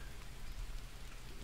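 Rain falling in the jungle survival game Green Hell, a dense, even patter of drops on surfaces, soft and continuous with a low rumble beneath and no voices.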